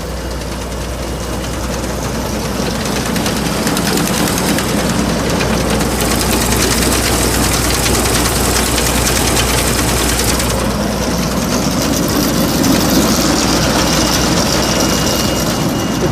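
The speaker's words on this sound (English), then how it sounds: "Starts up as soon as you hit the key there." An International 1460 combine engine runs loud and steady at idle, a dense continuous rumble with mechanical clatter that holds evenly throughout, close by and without speech.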